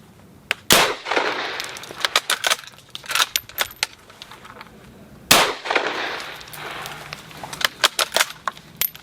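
A Chinese Arisaka rifle chambered in 7.62x39 fires two sharp, loud shots about four and a half seconds apart, each followed by the metallic clacks and rattles of the bolt being worked and cases ejecting, close by.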